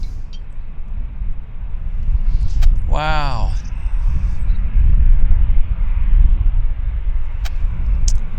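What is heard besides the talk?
Liberals' Airbus A319 campaign plane departing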